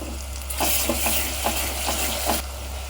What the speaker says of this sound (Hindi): अदरक लहसुन के पेस्ट को 1 मिनट भूनी।